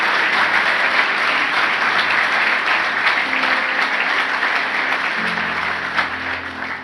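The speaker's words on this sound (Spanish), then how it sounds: "Dale un aplauso al Señor" A church congregation applauds steadily at an Easter service, broad sustained clapping filling the room for about seven seconds, fairly loud and even throughout.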